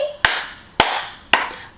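Three sharp, evenly spaced hand claps during a children's movement lesson, close and crisp, with a short ring trailing each one.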